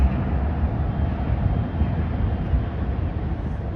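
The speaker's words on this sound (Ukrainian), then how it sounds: "це канадський трамвай." A Canadian tram passes along a downtown street in Calgary, a steady low rumble and roar that holds close and loud throughout, with no talking.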